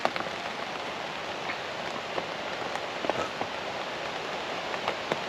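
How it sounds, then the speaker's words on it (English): Rain patters steadily on a camp shelter during Storm Floris, a dense hiss of drops with scattered louder taps, wind folded into the wash and no voices. "Couldn't care less about a bit of wind and rain."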